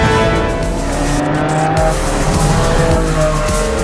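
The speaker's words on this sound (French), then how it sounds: "Une Ferrari Enzo de 2003 face à une Maserati MC12 de 2004" A 2003 Ferrari Enzo and a 2004 Maserati MC12 race on a closed road, engines roaring loud and close with a brief tyre squeal, the revving tones shifting as the cars run together.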